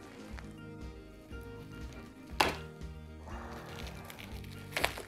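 Scissors or a blade cutting through plastic foil around a green screen setup, soft crinkling and scraping at close range with a couple of sharper snips.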